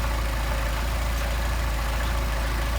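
Mercedes 190SL engine with Solex carburetors idling steadily at about 700 RPM just after a hot start, a constant low throbbing hum with no talk over it.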